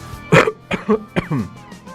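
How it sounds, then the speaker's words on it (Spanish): A few short, sharp coughs close up, three or four harsh bursts in quick succession. "Si yo pienso en toser y luego toso,"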